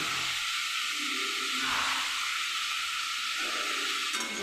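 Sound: pumpkin pieces frying in a pan

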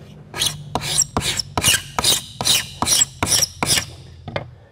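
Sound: Norton hand scraper scraping white oak

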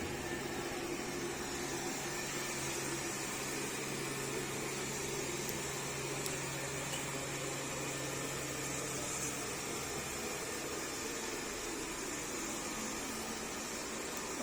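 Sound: robot vacuum cleaner running

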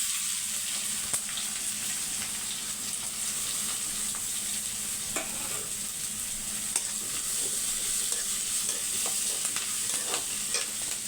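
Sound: mustard seeds, green chillies, curry leaves and onion frying in oil

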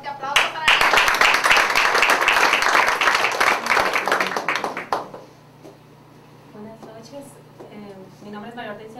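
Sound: audience applause for a Mary Kay director

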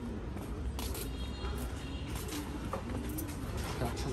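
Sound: pigeons cooing in a homing pigeon loft

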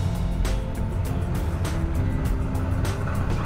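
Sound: Toyota Prius AWD-e accelerating in slip test

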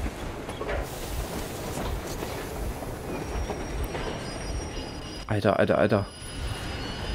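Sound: train arriving in the video game Metro Exodus

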